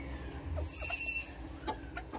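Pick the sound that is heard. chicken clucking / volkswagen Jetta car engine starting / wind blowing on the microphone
chicken clucking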